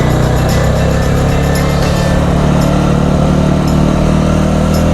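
A BSA Bantam 350 motorcycle engine drones loudly and steadily while riding, its deep rumbling tone continuous and close throughout, with no talk.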